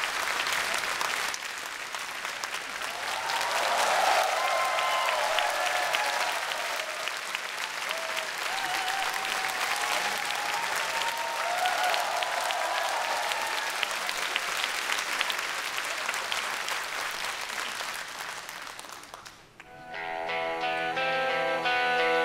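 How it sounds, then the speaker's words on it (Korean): A studio audience applauds to welcome a trot singer, sustained dense clapping for about twenty seconds that fades out before music begins at the end. "여러분 뜨거운 박수로 환영해 주십시오."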